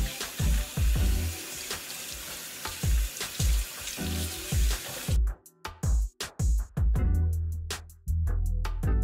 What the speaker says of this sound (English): take your heated cap over to the sink, drench it in water, and wring out any excess.